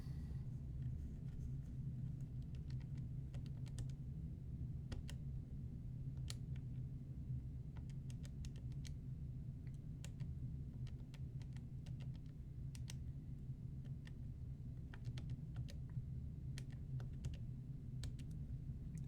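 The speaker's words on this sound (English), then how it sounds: "let's type these into the calculator" Numbers are keyed into a calculator, with sparse, faint button clicks tapping irregularly over a low steady hum.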